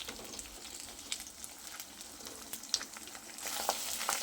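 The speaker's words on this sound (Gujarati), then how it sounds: "હવે એને સરસ ફ્રાય કરી લઈએ." Okra frying in a kadai: a soft, steady sizzle with faint crackles and occasional pops, swelling slightly louder near the end, with no voices.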